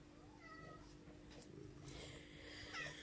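A domestic cat meows softly a few times nearby, short faint mews over a low steady background hum, with no talking.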